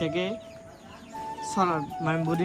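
Chicks cluck and peep in short bursts of several calls, close by, with a pause between them and no talking.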